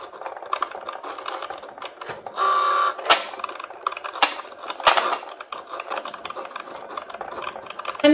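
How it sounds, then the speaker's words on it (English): A Cricut Joy cutting machine cuts a design, producing a steady run of quick mechanical clicks and whirring carriage movements with a few louder bursts, heard up close and alone. "click go and it will cut your design for you"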